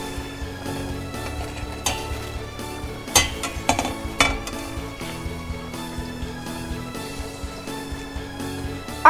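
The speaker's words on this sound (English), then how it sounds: "You want to fold it in half, and then you want to fry just the bottom for now." A folded tortilla shell fries in a pan for apple pie tacos, a low steady sizzle broken by sharp clinks and scrapes of a utensil against the pan.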